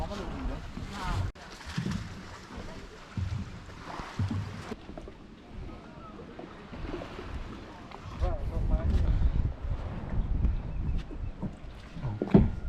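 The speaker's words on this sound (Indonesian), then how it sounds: "Ini kita udah naik ke kapalnya. Bentar lagi berangkat." Wind buffets the microphone as people board a boat setting off toward Ndana Island, Indonesia's southernmost island, with water movement and rumbling below steady gusts and brief talk.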